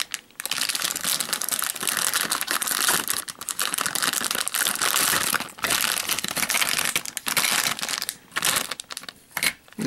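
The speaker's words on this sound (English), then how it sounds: "Helps if you cut the bag right." Plastic toy bag for a Hot Wheels car being cut and torn open, a continuous close crinkling and crumpling with brief rustling bursts and pauses, no voices.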